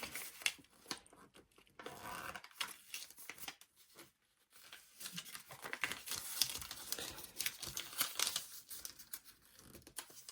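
Paper being creased and folded along printed lines for foundation paper piecing a hat section, giving close, continuous crinkling and rustling with sharp creasing rubs and short pauses, and no talking.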